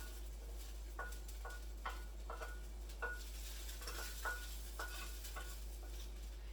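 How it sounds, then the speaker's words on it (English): Steady sizzling hiss of rice in an oiled pot with repeated scraping and stirring clicks against the pot, close by, over a low constant hum. "And you can hear that sizzle."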